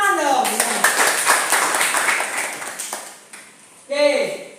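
A classroom of pupils claps hands together in a brief burst that thins out, followed by a voice speaking.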